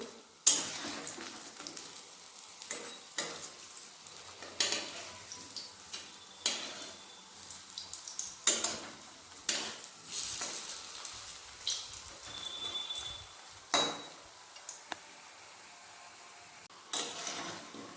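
Raw banana koftas fry in oil with a continuous crackling sizzle, broken by repeated clattering taps and scrapes as the pieces are turned in the pan.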